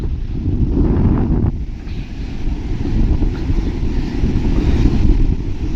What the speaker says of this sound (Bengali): এখন ঢেউটা কম আছে